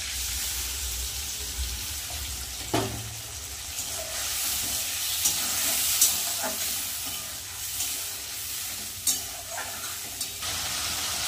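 Onion, garlic and ginger paste sizzles steadily in a pan for a jackfruit curry, stirred with a few sharp scraping clacks of the spoon against the metal.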